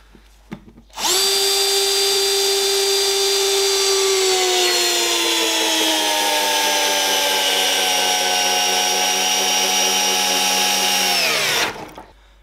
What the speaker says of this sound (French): Je vais venir visser ici. Vous voyez bien qu'on n'a pas de pré-perçage.